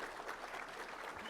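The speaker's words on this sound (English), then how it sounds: "can we get a round of applause for everybody who put this room together?" A brief, dense round of applause from the audience at the Cal OES Monarch Awards ceremony, an even wash of clapping hands with no break.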